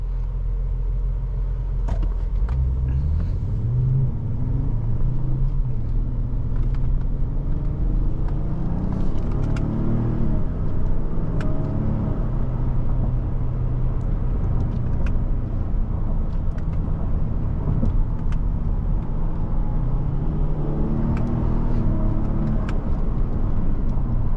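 Cabin of a 2022 Lincoln Navigator L Reserve with a 440-horsepower engine, accelerating on the road: a steady low engine and road rumble that rises in pitch as the SUV gains speed, close and continuous, with no talking.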